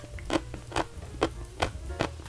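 Crisp bites into thick pickled winter radish, about five sharp crunches spaced at an even rhythm, close and clear with no talking.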